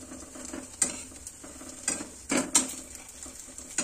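Patisapta pitha frying in ghee in a pan, a soft steady sizzle with occasional light scrapes and clinks of a spatula against the pan, quiet and close, no talk.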